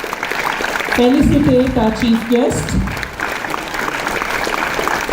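Conference audience clapping in a burst that swells and then thins out, heard under someone speaking over a microphone.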